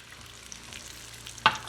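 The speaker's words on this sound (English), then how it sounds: "But we'll throw in about half a cup of white wine." Shrimp scampi sizzles softly in a pan, a low steady crackle, then a brief sharp splash and hiss near the end as white wine hits the hot pan.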